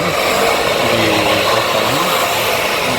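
A power saw cutting through confiscated weapons seized as case evidence, a loud harsh continuous grinding roar with a slight wavering pitch as the blade bites, close by and steady throughout.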